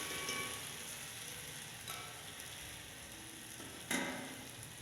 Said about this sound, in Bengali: তো ভালো করে কষিয়ে নিচ্ছি।